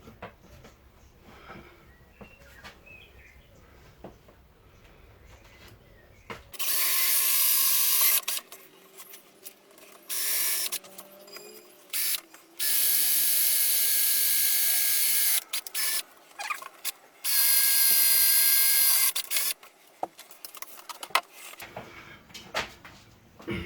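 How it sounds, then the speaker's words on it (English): A power drill bores location holes through a car boot panel in several loud whining bursts of a few seconds each, separated by quieter pauses with handling clatter in between. "Flip it over and drill on the top."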